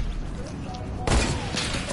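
A blank-round gunshot in a first-person shooter: one sharp, loud, close report with a short booming tail. Someone talks over the game sound before and after it.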